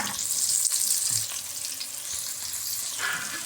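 Onions sizzle and crackle in a hot pan, with bright continuous frying hiss and a few stirring scrapes, close and clear with no talking.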